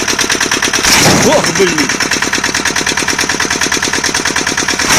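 A walk-behind tractor jerks and chugs with a stuck clutch whose ratchet has gone unlubricated, its rapid rhythmic engine pulsing loud and close throughout, with a man's short exclamation near the start.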